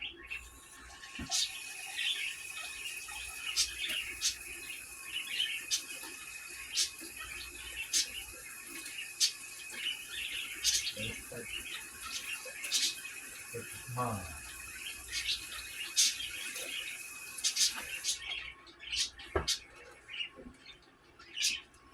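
Tap water runs into a container for pickled-egg brine, a soft, faint splashing stream with birds chirping throughout in the background.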